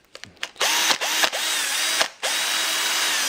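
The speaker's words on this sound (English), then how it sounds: "drill, make sure it's cordless and that you've got plenty of power in it." A cordless 18 volt drill whirs steadily at close range, with a couple of brief stops and restarts in its run and no talking.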